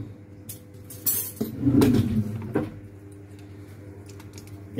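Whole piquillo peppers dropped into a frying pan make a few soft, close metallic clinks and a brief thudding rustle, with quiet handling sounds around them.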